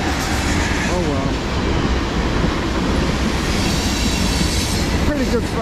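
A long CSX M409 freight train with a pushing distributed-power locomotive rolls past loud and close, wheels rumbling and clacking steadily with occasional squeals.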